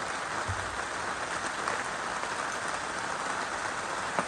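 Steady, dense rain falls and patters on surfaces outdoors, a loud continuous hiss with no pauses.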